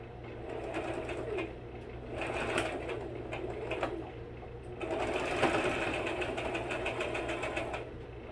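A sewing machine stitching a tablecloth runs in steady bursts of fast mechanical whirring, close and continuous, pausing briefly between longer runs.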